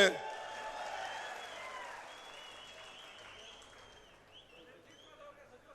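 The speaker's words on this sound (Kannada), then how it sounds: "ಒಡಲಿ ಚಪ್ಪಾಳೆ" Applause from a crowd at a Karnataka political gathering, loudest at the start and then slowly fading into scattered clapping and murmur over several seconds.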